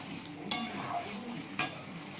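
Mutton curry with tomatoes and ginger sautéing in a pan, a soft steady sizzle broken by two sharp scraping strikes of a spatula, close and alone.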